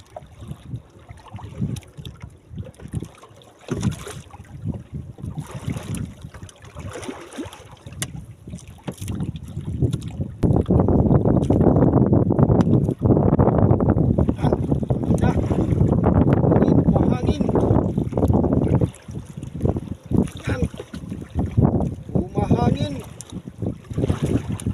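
Strong wind buffets a small fishing boat at sea during hook and net fishing, a loud rushing roar that swells for several seconds mid-clip, with lighter gusts and talk around it.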